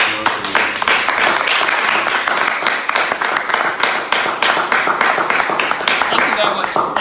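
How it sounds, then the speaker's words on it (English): Loud, dense audience applause during a live show, steady enthusiastic clapping from a crowd sustained for the full seven seconds, close and energetic with no speech on top. "Please give her a round of applause."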